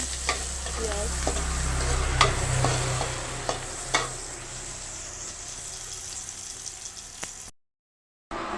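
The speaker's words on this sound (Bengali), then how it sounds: "এখানে পেঁয়াজ বেরেস্তার জন্য ভাজা হচ্ছে পেঁয়াজ।" Onions sizzle steadily in a pan as they fry for birista for chicken roast, with a spoon scraping and knocking at irregular intervals up close, before a brief cut to silence.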